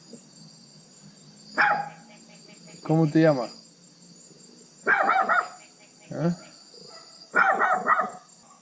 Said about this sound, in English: this dog is barking at me